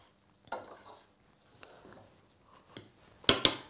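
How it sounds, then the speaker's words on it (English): A fork scrapes and taps through cooked rice pilaf in a pan, with soft scattered scrapes building to two sharp metallic clinks near the end, close and fairly quiet. "Break that up with a fork."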